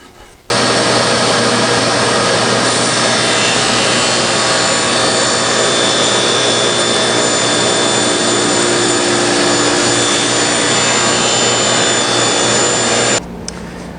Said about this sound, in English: Now I need to cut off a couple of strips that are that thick